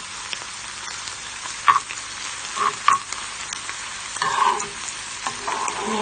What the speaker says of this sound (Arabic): الحاجة يعني ايه تنشف كده وتتحمص نفسها كده خلاص